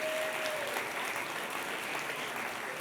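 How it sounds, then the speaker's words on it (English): A steady round of applause from an audience after a talk on jazz, fairly faint and even, continuing for a few seconds with no speech. "Give yourselves a round of applause."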